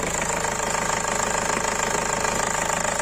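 A Ford Connect 1.8 engine idles steadily and close by during an inspection, a continuous low rumble with a faint rhythmic knock running through it.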